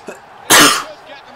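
A single loud, harsh cough bursts out close to the microphone, preceded and followed by quiet room noise.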